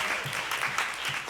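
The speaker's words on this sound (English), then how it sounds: "give her a round of applause," Audience applauding at a women of color roadshow event in Los Angeles, a short steady burst of many hands clapping together at moderate loudness with no voices over it.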